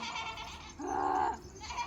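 A single drawn-out bleat from a sheep in a stage dramatisation of a children's story, fairly close and clear, lasting about half a second amid quiet room tone.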